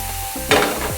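Prawns frying in a pan, cooked until the sides char, giving a close sizzle that flares sharply halfway through with brief stirring scrapes.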